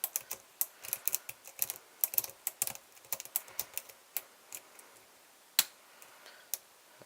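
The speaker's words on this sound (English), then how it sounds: "I'm just going to scrub the first pins." Single-pin picking of an Imperial euro cylinder lock yields small, sharp clicks and ticks, close and quiet, clustered quickly at first and then spaced out with a few louder snaps.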